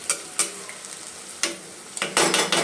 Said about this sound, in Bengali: টমেটোটাও কিছুক্ষণ নাড়াচাড়া করে, তারপরে একটুখানি টমেটোটাও একটু সেদ্ধ হয়ে আসবে